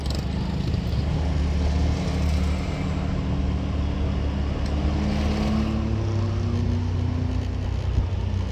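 Long traffic jam on a road under repair where only one lane is open, heard as a steady, continuous low engine rumble from slow-moving vehicles, without a break throughout.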